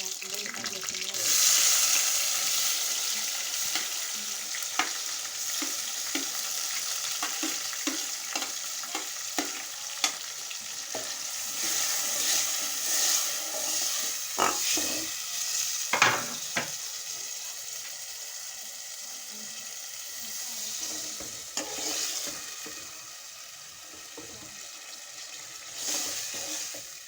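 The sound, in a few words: tomatoes cooking with fried onions in pan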